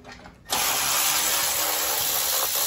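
Power tool or ratchet mechanism removing bolts from a Briggs and Stratton tractor engine, starting abruptly after a short quiet moment and then running steadily and loudly with a high whine for the rest of the clip.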